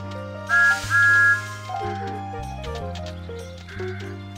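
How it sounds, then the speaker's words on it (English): A steam-engine whistle for Thomas the Tank Engine in a railway video game, two short bright toots near the start over a cheerful musical backing. "Try pulling the yellow lever to blow Thomas's whistle."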